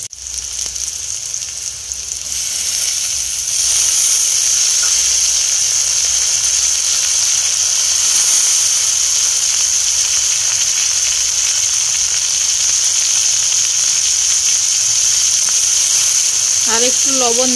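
Shredded cabbage goes into a pan of frying potatoes and cauliflower, and after a short quieter moment the sizzle swells into a loud, steady hiss that lasts to the end.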